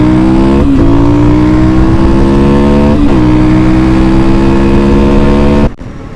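A dirt bike engine drones loud and close while riding down a road, holding a steady pitch with two brief gear-shift dips before cutting off abruptly near the end.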